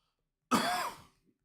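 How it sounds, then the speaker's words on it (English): A single close, harsh cough with a throat-clearing quality, bursting out of silence and trailing off within about half a second, followed by a tiny click. "I've had a bit of a cough for over a week now"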